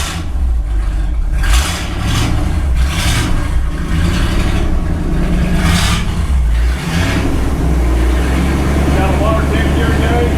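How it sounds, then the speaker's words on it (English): An old project truck engine runs with a bad exhaust, a loud, rough rumble that pulses and revs unevenly. It stays close to the mic, with voices partly under it. "Dad said the exhaust on this thing was pretty terrible. He's right, it don't sound very good."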